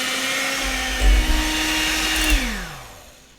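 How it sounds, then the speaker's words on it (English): An electric mixer on medium speed beats cake batter, a steady motor whine running close and loud, with slight bumps as the beaters knock the bowl, then the pitch drops as it slows near the end. "beat with an electric mixer on medium until it becomes light and fluffy"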